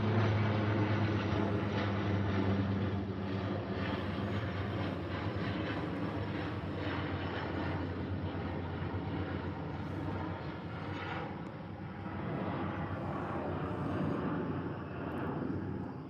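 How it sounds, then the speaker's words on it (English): Propeller airplanes drone overhead outside a hyrax enclosure, a steady loud rumble that swells and fades gently throughout, with no voices. "Sorry about the airplanes."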